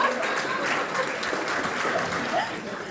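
Audience applause at a design launch party, a steady wash of clapping from a crowd that holds for about three seconds before easing slightly at the end.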